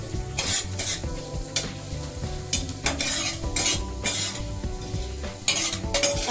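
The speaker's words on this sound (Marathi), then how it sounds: "आता आपण कांदे भाजतोय" Onions are dry-roasted and stirred in a pan, with repeated bursts of spatula scraping and clatter over a low sizzle, close and fairly loud, no voices.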